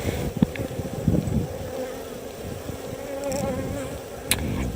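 Honey bees buzz around an open hive in a steady, soft hum, with an occasional louder pass as a bee flies close. No voices.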